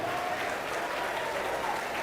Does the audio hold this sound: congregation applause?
yes